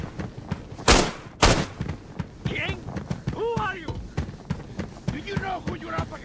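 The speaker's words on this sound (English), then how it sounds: "Exchanging fire with the target!" Gunfire is exchanged in the game Arena Breakout, with two sharp, loud shots early on and lighter pops and clatter after them. Game voices talk throughout.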